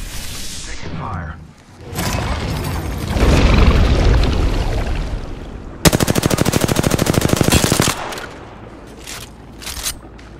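Gunfire in Apex Legends: bursts of shots, then a sustained rapid machine-gun volley of about two seconds, with booming impacts and a game voice between them.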